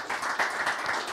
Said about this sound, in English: Can I please ask the audience to give Juan García-Gallardo a round of applause